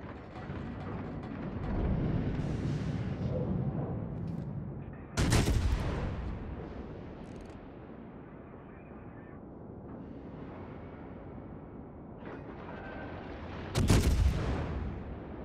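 Naval guns fire in World of Warships, with two heavy broadside blasts well apart over a low rumbling sea-battle ambience.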